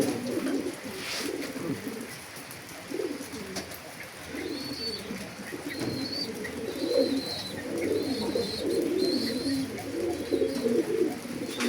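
Domestic pigeons cooing steadily inside a home loft, soft repeated coos layered over one another at close range, with faint chirps and rustling in the background and no talk.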